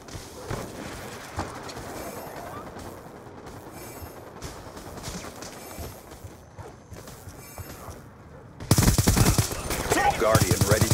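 Gunfire in Call of Duty: Black Ops 2 multiplayer on PC, scattered distant shots with footsteps and game voices, then loud, close rapid bursts of automatic fire in the last seconds.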